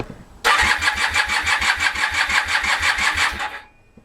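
A Honda CB450 motorcycle engine cranks on the electric start button and catches, settling into a steady, close, loud idle with a regular low thumping beat for about three seconds before cutting off.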